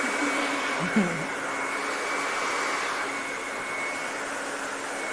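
A hair dryer blows steadily and loudly on hair extensions, a continuous whooshing roar that holds through the whole stretch with no talking over it.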